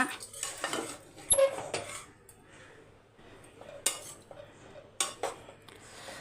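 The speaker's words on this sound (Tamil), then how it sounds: "இப்போ இதை மிக்ஸ் பண்ணிடலாம் சாதம் உடையாமல் மிக்ஸ் பண்ணிக்கோங்க" Paneer fried rice is tossed and mixed in a pan off the heat, with clattering spoon-on-metal scrapes and knocks in uneven bursts and quiet gaps between them.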